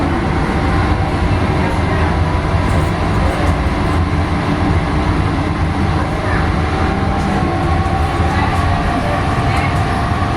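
Steady loud rumble of a moving passenger train on a ride, with continuous rail and carriage noise filling the whole stretch and a faint voice now and then.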